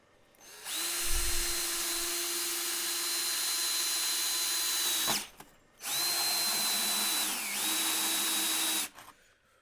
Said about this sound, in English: Alright, drilling a hole.